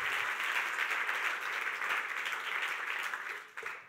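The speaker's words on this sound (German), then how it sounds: "Geben wir Ihnen einen lauten Applaus in unserem Kalkofen raus" A church congregation gives loud, sustained applause, a steady wash of many hands clapping that holds evenly before thinning out and stopping near the end.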